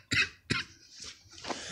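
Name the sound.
cough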